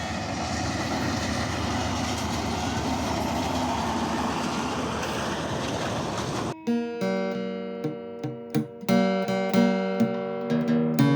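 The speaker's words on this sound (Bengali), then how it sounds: "তো দেখতে পাচ্ছেন ট্রেন আসছে" A train approaching and passing on a railway line by a riverside: a steady rumbling roar gives way to sharp rhythmic clickety-clack of wheels over rail joints with tonal ringing, close and loud, no talk.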